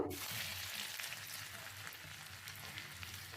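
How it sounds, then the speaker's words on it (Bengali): Chopped ginger hitting hot oil for egg chowmein, a sudden burst of frying that settles into a loud, steady crackling sizzle, close by and with no voices. "এটা আমার গরম হয়েছে, এবার আমি আদা কুচিটা দিয়ে দেবো"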